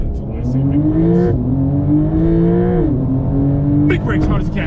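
A Porsche accelerates hard from a standstill on a driving-experience course, its engine note climbing loud and steady in pitch through a gear change, while an instructor talks over the engine.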